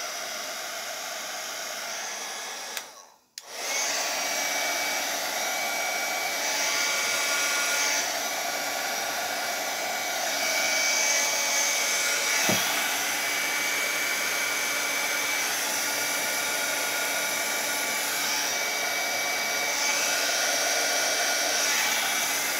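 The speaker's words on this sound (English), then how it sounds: "moving it around with this heat gun" A heat gun blows hot air steadily over dyed paper, a continuous hair-dryer-like roar that holds for the whole stretch apart from a brief cutout near the start, with no talking.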